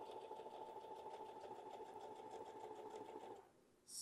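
Serger running a coverstitch through stretched garment fabric: a steady, rapid mechanical whir with even stitching pulses that cuts off near the end, followed by a brief click.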